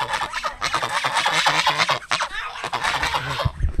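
A group of fowl at a fishpond honk and quack loudly and continuously in a dense chorus, close by, answering a person calling to them.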